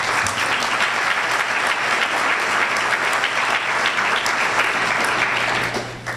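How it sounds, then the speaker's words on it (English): Loud, sustained audience applause for event sponsors, a dense wash of many hands clapping steadily for several seconds before tapering at the end, with a low hum underneath. "I'd like to give them a round of applause."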